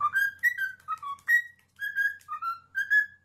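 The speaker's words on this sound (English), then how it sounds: "it's whistling at us" A bird whistles a series of clear, bright notes in short rising and falling phrases, close by, with quiet pauses between them.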